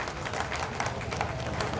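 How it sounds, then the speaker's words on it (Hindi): A crowd at a university team event claps in a short, dense burst of applause, steady and fairly loud, with a faint murmur of voices underneath. "एक बार जोरदार तालियों से इन सब का अभिवादन कर लीजिए"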